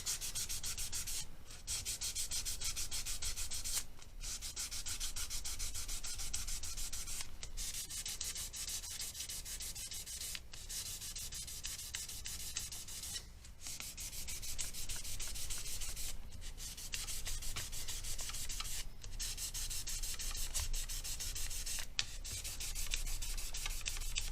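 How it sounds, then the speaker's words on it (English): Sandpaper wrapped over a fingertip rubs along the frets of a Gibson Les Paul Studio, a steady close scratchy rasp in repeated strokes broken by short pauses, with no voices. "turn your sandpaper around so that your used side is pointing towards the nut. Then you'll work the other side of those frets like this."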